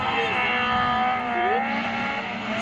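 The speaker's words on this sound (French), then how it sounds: "Et la monstrueuse BMW Compact." A BMW Compact race car at a hill climb event, its engine droning loudly and steadily with rising and falling pitch as it revs and shifts, close and continuous.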